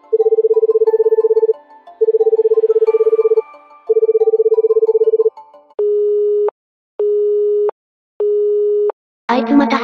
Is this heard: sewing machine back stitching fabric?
no